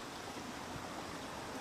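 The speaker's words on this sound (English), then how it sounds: "I remember this creek." A creek flows in a steady, even rush of water, a soft continuous wash with no breaks and no voices.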